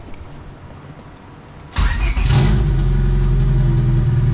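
A Honda D16Y8 engine in an EK coupe cranks and fires after a quiet moment, catching with a loud rising rev before settling into a steady close idle.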